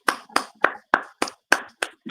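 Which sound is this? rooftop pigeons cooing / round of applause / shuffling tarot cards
round of applause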